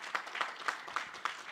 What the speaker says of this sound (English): So I would make a big applause to our panel.